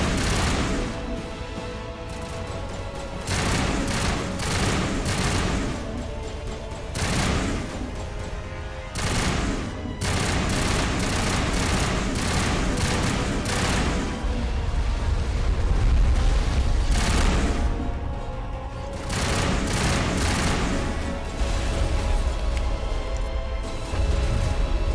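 Rapid, continuous bursts of gunfire and projectile impacts from a sci-fi firefight in the video game Mass Effect, loud and dense, with repeated sharp volleys and booms across the whole stretch and no talking.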